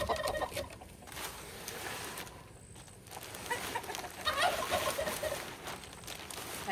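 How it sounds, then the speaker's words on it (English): Hen clucking inside a nesting box, soft and close, with intermittent bird calls over a steady background hiss. "Had a girl in the nesting box."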